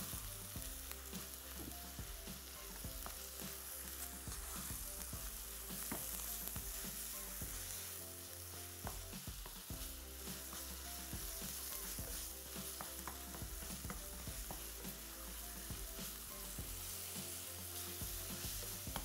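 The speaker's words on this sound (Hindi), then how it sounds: "अब इसकी खूब अच्छी तरीके से भुनाई हमने करनी है, ताकि प्याज, अदरक, लहसुन इस कीमे में अच्छी तरीके से शामिल हो जाए" Minced meat frying with onion, ginger and garlic gives a continuous, even sizzle with occasional stirring clicks throughout, steady and close with no voices.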